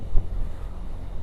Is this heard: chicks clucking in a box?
no